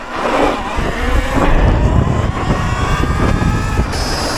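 Talaria MX5 Pro electric motorbike pulling at full throttle on a short test road in Orimattila, a steady loud rush of motor and wind noise building throughout with no talking.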